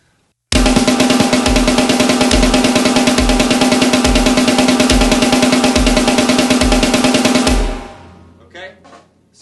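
Drum kit playing a steady stream of rapid 32nd-note hits, eight per beat, dense and loud with regular low accents marking each beat, then stopping abruptly near the end with a short ringing decay.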